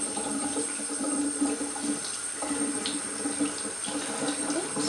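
Cold water runs steadily from a tap into a sink while fabric is rinsed, a continuous close splashing flow with no talking.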